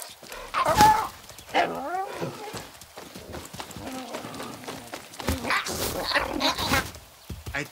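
A dog barks in the video game Far Cry 6 among game sounds, with hoof-like clopping and voices speaking over much of it, the barks coming in short bursts near the middle.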